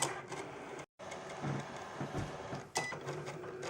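A Cricut cutting machine works through an uploaded design, giving a steady close mechanical whir and rattle with shifting tones and one brief dropout partway through; no talking.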